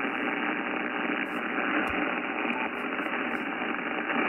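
Continuous band-limited hiss and static from a Yaesu FTDX10 amateur radio receiver running 12 dB attenuation with the noise blanker off, dense and even, with a few brief crackling impulse clicks scattered through it.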